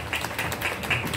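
A temple audience at a Hindustani classical music concert in Goa applauds the musical team with steady, moderately loud clapping in a large hall.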